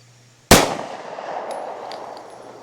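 A single sharp, loud gunshot from a 9mm Taurus GX4 pistol with a 3-inch barrel, cracking suddenly out of near silence and then ringing away in a long outdoor decay.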